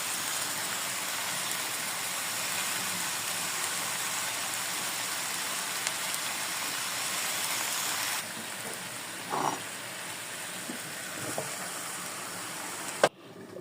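Mixed vegetables fry in a pan after water is added, giving a loud, close, rain-like hiss that runs steadily, then drops to a softer simmer with a few clinks near the end.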